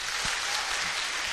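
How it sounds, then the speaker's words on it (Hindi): A stage audience claps steadily after a call for a big round of applause, a dense, even wash of hands that holds at a moderate level for a little over a second, with no voices standing out. "एक जोरदार ताली हो जाए इनके लिए।"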